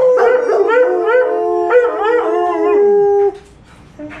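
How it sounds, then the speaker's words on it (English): Several dogs nearby howl together in long, sliding, overlapping tones, holding a sustained chorus before trailing off into quieter noise. "Now you guys stay in here and practice your howling, okay?"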